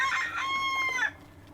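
A rooster on a farm gives one drawn-out crow close by, with chickens clucking around it and fading to quiet at the end.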